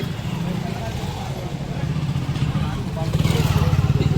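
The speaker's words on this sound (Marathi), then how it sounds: "चेंबरमुळे ही गाडी अडकलेली आहे, गाडी चढत नाही आहे लवकर वजन असल्यामुळे" A loaded vehicle strains on a town main road where it is stuck on a raised drain chamber. Its engine holds a low, loud hum that rises into a pulsing labour near the end, under someone talking.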